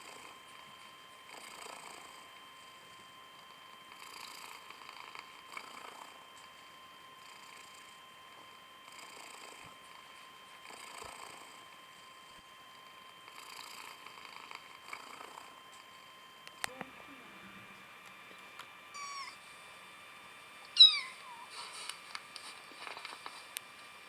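A domestic cat purrs quietly and steadily in close, faint rhythmic pulses, followed near the end by a few brief, thin higher-pitched meows.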